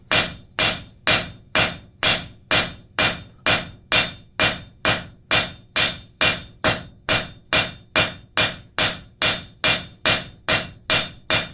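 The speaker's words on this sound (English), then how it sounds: "I'm keeping the bar flat on the anvil, and my hammer's coming in at a slight tangent" A blacksmith's hammer strikes a steel bar on an anvil, spreading its end into a fishtail for a scraper, in a fast, even rhythm of sharp, ringing blows, loud and close, with no talking.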